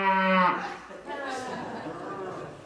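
A man in a church sermon imitates a cow's moo, giving one loud drawn-out lowing call up close, followed by softer voiced sounds and murmuring.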